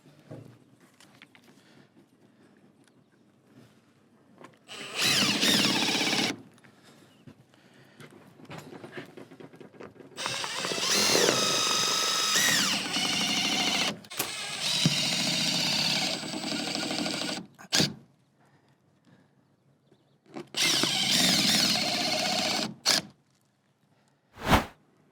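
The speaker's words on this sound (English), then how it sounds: "I'm gonna start screwing this off" A power drill drives screws through the flange of a window being installed. There are several loud, close whirring bursts of varying length with short quiet gaps between them, and brief sharp hits near the end.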